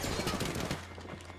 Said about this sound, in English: This guy's just shooting walls